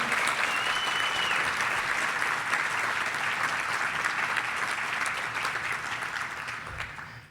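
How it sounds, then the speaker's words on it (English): Sustained applause from an audience at an awards breakfast, honoring the day's honorees: a dense, steady wash of clapping from a full room, holding loud before fading slightly toward the end. "let's clap again for all of our honorees today."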